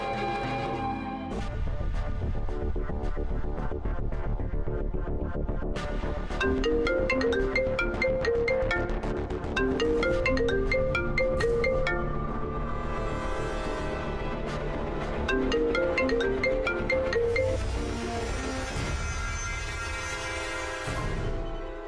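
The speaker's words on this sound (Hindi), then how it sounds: "अच्छा चलिए, आप फोन लगाइए नरेन को।" Phone ringtone heard during an outgoing call, a repeating melodic tune that plays continuously for around twenty seconds, close and clear with no talking over it.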